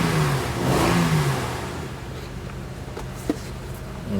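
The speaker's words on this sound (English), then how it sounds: "I'm gonna rev up the engine." An Acura MDX with a cylinder misfire and low power revs up, the engine note climbing loudly and then falling back to a rough idle with a brief knock near the end.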